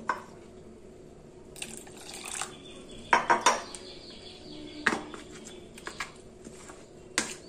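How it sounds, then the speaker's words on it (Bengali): Water poured into a bowl of breakfast batter, heard as short splashes mixed with clinking of a utensil against the bowl, close and fairly quiet. "এবার আমি এর মধ্যে একটু জল মিশিয়ে দেব।"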